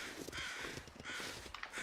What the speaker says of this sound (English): Birds mean there's something up here.